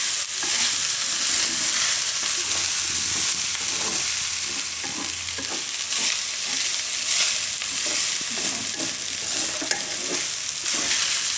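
Rice stirred with spices in a hot pan for fenugreek-sprout pulao, with a steady close scraping and sizzling that runs throughout and no voices.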